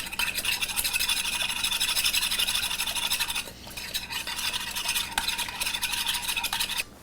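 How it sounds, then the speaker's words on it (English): A whisk beats rapidly and steadily against a bowl as oil is poured into a champagne vinegar dressing with orange zest, a continuous close scraping rattle with a short dip midway. "Now whisk as you slowly add your oil."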